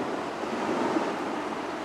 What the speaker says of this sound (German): hört ihr das Meer rauschen?